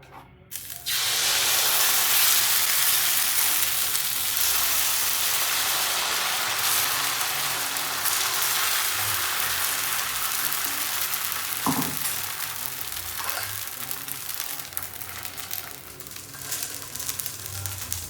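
Millet dosa batter, made without rice or urad dal, hisses and sizzles loudly and steadily on a hot oiled pan, with a faint scrape or two of spreading partway through.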